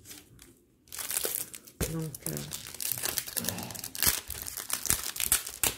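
Sheets of 30x30 craft paper crumple and crinkle close by in a steady run of crisp, rustling bursts, heard under someone speaking.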